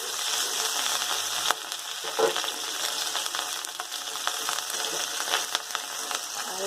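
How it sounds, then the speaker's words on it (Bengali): A paste of spices, ginger, green chili, poppy seed, cashew and melon seed frying in a pan with bay leaf, cumin and tomato; a steady close sizzle with soft stirring scrapes and occasional pops, no voices. "বাদাম, কাজু বাদাম আর চার মগজ বাটা মেশানো কষানো হচ্ছে বন্ধুরা।"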